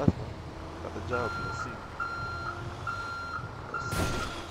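Bus reversing in GTA roleplay, sounding a steady series of loud, evenly spaced electronic backup beeps with engine rumble underneath. Someone talks over the beeping at moments.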